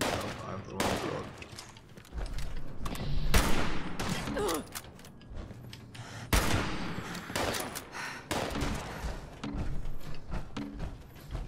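Gunfire in the video game Fallout 76 comes as repeated sharp bursts and single shots spread across the stretch, loud and close, with mechanical clatter between them.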